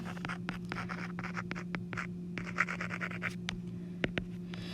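Marker or chalk scratching across a board while working a math problem, a quick run of short strokes and taps, close and fairly quiet, with no talk.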